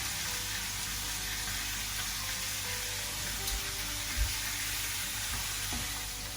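Bacon and tomatoes fry in a pan with a soft, continuous sizzle and a few faint clinks, heard quietly and without talk.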